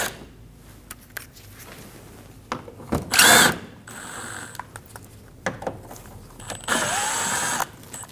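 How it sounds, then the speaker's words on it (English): A power drill fitted with a T25 bit backs out bumper screws on a 2012-2022 Volkswagen Passat, giving two short, loud whirring bursts separated by quieter pauses. "We're going to use a T25 bit and we're going to remove the 3 screws."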